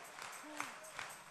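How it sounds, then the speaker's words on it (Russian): A congregation at a worship service in Dnipro gives soft, scattered applause, faint and short, with voices rising over the clapping. "Аплодисменты!"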